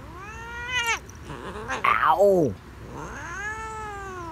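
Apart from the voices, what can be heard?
cat hissing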